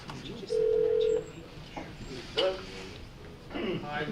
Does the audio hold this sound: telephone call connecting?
yes